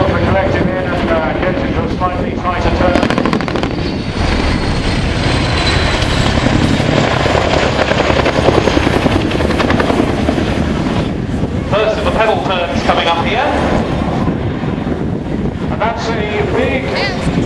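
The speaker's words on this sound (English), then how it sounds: "you'll get a little bit of blade slap down again as the pedals are collected in" A large twin-rotor RAF Chinook helicopter roars continuously at close range at an air display, its rotor thumping heavily with blade slap in a tight turn, with wind buffeting and a voice talking over it.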